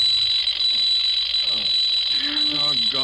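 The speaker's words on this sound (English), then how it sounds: "Alarm clock suddenly goes off." A radio-drama alarm clock bell rings loud and steady throughout, a continuous shrill metallic ring with voices talking faintly underneath.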